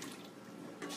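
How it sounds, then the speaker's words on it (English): Water poured from a pitcher in a kitchen gives a steady, close splashing stream, alone and unbroken for the short moment. "just doing it with a pitcher and some water here."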